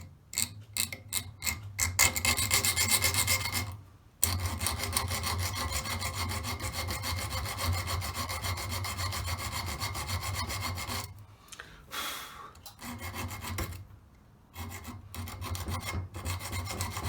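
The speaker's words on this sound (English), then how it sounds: "I'll put a saw cut across it" A hand saw rasps steadily, cutting a slot across a stuck screw on a pump, in long rhythmic strokes, close up, pausing briefly a few times before resuming.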